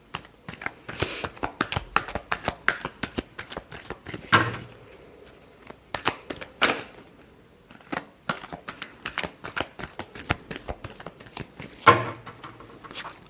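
Tarot cards being shuffled for a reading, a steady run of soft riffling and slapping card sounds with brief pauses, close and fairly quiet, no talking.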